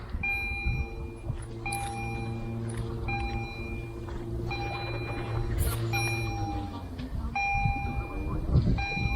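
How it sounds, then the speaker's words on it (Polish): A train rumbles past at a distance with a steady low drone and intermittent high tonal squeals, while faint voices murmur in the background. "Pojedzie pociąg."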